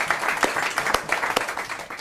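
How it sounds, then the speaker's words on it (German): Audience applause at a jazz concert in Cologne, a brief burst of dense clapping with a few sharper, louder claps standing out over two seconds. "Ja, bitte, Applaus."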